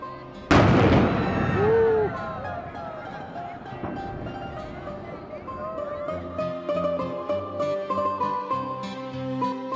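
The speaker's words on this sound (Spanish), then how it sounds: "ustedes escucharán a las 12 del día el cañonazo" A noon cannon fires at the Peter and Paul Fortress in St Petersburg, one sharp, loud boom that rolls off into a long echo, then fades under crowd chatter and music.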